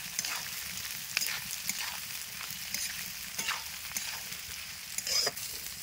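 Onion frying in hot oil over a village clay stove makes a soft, continuous sizzle broken by scattered crackles and spatters, fairly quiet and close, with no talking.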